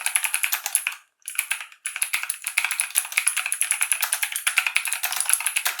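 Rapid, steady keyboard typing close by, a continuous clatter of keystrokes with two brief pauses early on, no voices.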